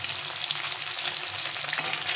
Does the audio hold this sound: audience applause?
no